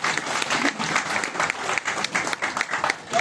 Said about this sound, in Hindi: तालियां बजा दें एक बार।